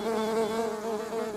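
Steady, close buzzing of a honeybee, a continuous droning hum with slight wavering in pitch, heard alone.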